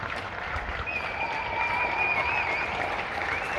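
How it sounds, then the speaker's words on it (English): Neighbours clapping from apartment windows along a city street during a coronavirus lockdown, a continuous, fairly distant patter of many hands with a faint whistle running through it. "people are just giving a round of applause for all the people that are battling coronavirus out there"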